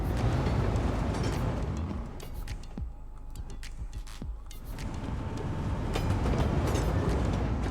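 A train runs along newly laid track in the city-building game Cities: Skylines II, giving a steady low rumble that dips briefly in the middle and then swells again, with a few faint clicks over it.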